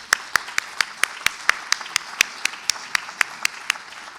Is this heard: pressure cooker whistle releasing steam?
no